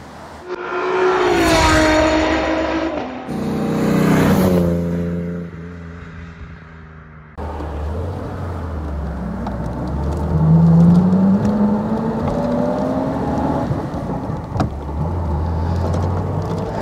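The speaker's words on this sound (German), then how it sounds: "Ist halt eine 12-Zylinder-Maschine, was natürlich außergewöhnlich ist." A 1938 Lagonda V12 Drop Head Coupé with its 180 hp twelve-cylinder V engine, driven on the road: smooth rising and falling engine hum through gear changes, steady and fairly close, with no talk over it.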